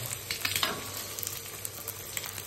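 Hot oil sizzles steadily in a small electric pan as an omelette starts, with a constant broadband hiss and a few scraping, stirring knocks near the mic; no talking.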